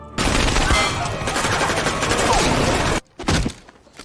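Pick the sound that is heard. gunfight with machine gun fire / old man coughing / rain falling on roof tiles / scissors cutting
gunfight with machine gun fire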